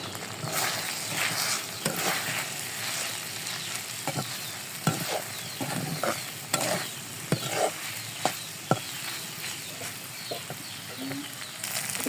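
Taki fish being stirred in a pan with browned fried onion and chili, a steady sizzle of frying with repeated scraping spatula strokes and occasional sharper clacks against the pan, close and continuous.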